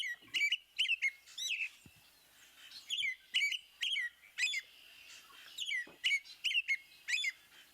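A wild songbird, a flocking species of spring, sings clear whistled phrases in repeated bursts of three or four notes, fairly close and alone in a quiet outdoor setting.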